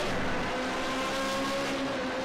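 Formula Renault 3.5 race car engines in iRacing whine steadily at high revs at Hockenheim, a sustained buzzing drone with rising tones, loud and continuous with no talking.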